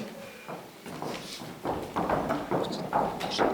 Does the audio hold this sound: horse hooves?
yes